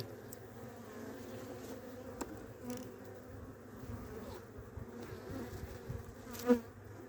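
Dense, steady buzzing of many honeybees close up inside a five-frame split hive in December, a continuous droning hum with no voices.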